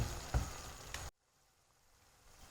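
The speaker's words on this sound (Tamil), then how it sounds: "பாருங்கள் நம்ம மசாலா இப்போது எண்ணெய் பிரிஞ்சு நல்லா கொதிச்சிட்ருக்கு" Masala for veg mutton liver chops sizzles and bubbles in oil with a couple of sharp pops, loud and close for about a second before it abruptly drops to a faint hiss.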